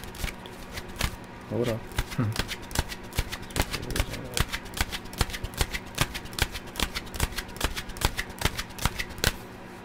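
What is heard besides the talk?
tarot cards being shuffled and cut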